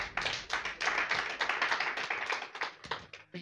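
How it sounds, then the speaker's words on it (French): Audience at a French business conference claps in a steady, dense burst of hand claps lasting a few seconds, fairly close and loud, with a few individual claps standing out near the end. "Applaudissez, s'il vous plaît."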